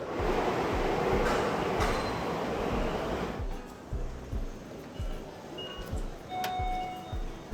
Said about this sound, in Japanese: 地下鉄じゃなかったのこれ。